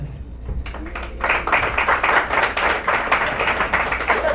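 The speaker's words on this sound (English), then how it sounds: "Give yourselves a round of applause." Congregation at a church service breaking into applause, with a few scattered claps swelling within a second into dense, steady clapping filling the room and continuing to the end.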